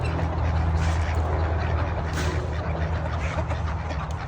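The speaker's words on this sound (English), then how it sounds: "There's some of the ducks." A flock of farm ducks quacks in a continuous noisy chorus close by, with no voices over it.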